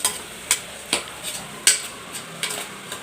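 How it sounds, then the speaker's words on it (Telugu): Biryani masala powder being mixed into a pan while making methi pulao: a spoon taps and scrapes against the pan about eight times at a loose, irregular pace, quiet and close, with a soft background between strokes. "బిర్యానీ మసాలా పౌడర్ని కూడా యాడ్ చేసుకోవాలండి యాడ్ చేసి కలుపుకోవాలి"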